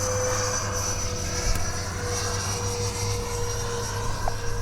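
A Freewing 70mm ME 262 radio-controlled jet on its maiden flight gives off a steady, continuous turbine-like whine with a thin sustained tone, holding at a constant level throughout.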